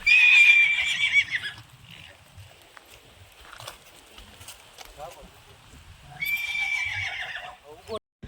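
A mare neighs loudly twice, one long whinny at the start and another a few seconds later, with quiet shuffling and faint sounds in between.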